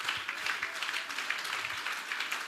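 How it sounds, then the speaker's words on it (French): A church congregation clapping during a service, a soft, steady patter of many hands heard from some distance and continuing throughout. "Clap for God."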